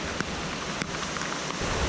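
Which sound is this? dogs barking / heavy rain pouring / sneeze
heavy rain pouring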